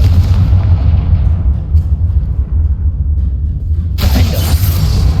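A Bombarda explosion spell in the Hogwarts Legacy video game lands with a heavy, rumbling boom, a sustained low roar with shattering debris, then a fresh bright crash near the end.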